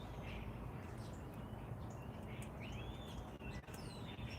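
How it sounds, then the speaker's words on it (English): Birds chirp and call outdoors at a family house, faint and scattered over a steady low background rumble, with no talking. "I hear the birds."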